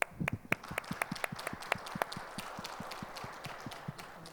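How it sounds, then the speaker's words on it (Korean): A church congregation at a Sunday worship service claps together in a brisk, fairly even rhythm, the applause moderately loud and a little distant. "우리 돌아서서 한번 박수 쳐주십니다"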